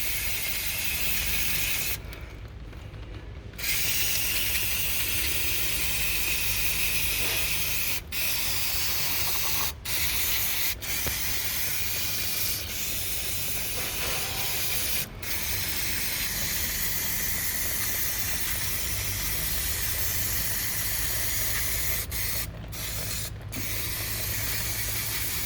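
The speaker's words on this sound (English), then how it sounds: "let's get the brake cleaner and clean this area" Brake cleaner sprayed from an aerosol can onto car parts during a fuel system upgrade with a surge tank, a close, steady hiss running almost continuously with a few brief pauses between bursts.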